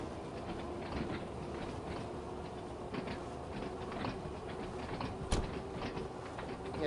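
A train runs in Train Sim World 2 on the Isle of Wight line, a steady rolling rumble with rhythmic clickety-clack wheel beats and a sharp metallic click partway through, with no talk.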